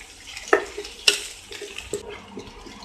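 Finely chopped onion and green chili sautéing in a pan for masala rice, with soft frying sizzle and a few sharp clinks and scrapes of a spoon stirring against the pan.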